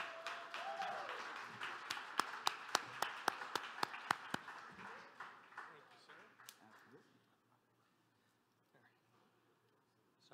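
Applause from the audience at a live charity gaming event, sharp individual claps mixed with broader clapping, loud at first, then thinning and dying away to near silence.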